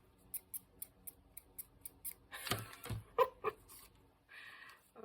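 A quick series of light, evenly spaced snips, then a few louder clattering handling sounds and a short rustle, close by and fairly quiet.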